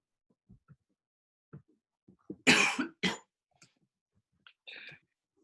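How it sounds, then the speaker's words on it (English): A person coughs in a hard burst of several close coughs mid-clip, with quieter throat clearing and small clicks and breaths around it, near and otherwise quiet. "None of that coughing nonsense."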